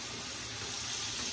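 Steady shower water pours and splashes nonstop while a Great Dane puppy is washed for its first shower, a dense even rush close by with no voices.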